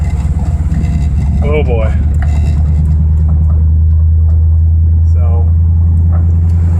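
A Mazda RX-7 swapped with a Ford 302 5.0 V8 rolls down the road, its loud, deep engine rumble droning continuously throughout, while someone briefly speaks over it.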